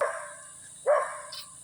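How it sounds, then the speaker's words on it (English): A dog barks twice outdoors, two sharp separate yaps less than a second apart, loud and close with quiet in between. "Okay, no, he's just freaking barking."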